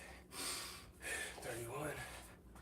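Heavy, rough breaths drawn in and pushed out during squats, close and forceful gasps in a few long pulls, with faint voice-like sounds mixed in.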